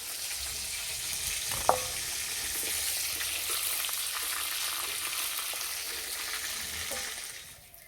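Chicken pieces fry in a small amount of oil with a loud, steady hissing sizzle that fills the whole stretch, one sharp clink near the start, then the sizzle fades at the end, with no talking.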